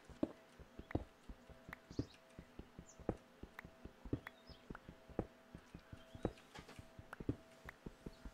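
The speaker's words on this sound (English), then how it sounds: "There's a horse over here." Steady hoofbeats of a horse in the video game Sola Fide: A Curious World, clip-clopping at a walking pace, clear and fairly close, with faint bird chirps in the background.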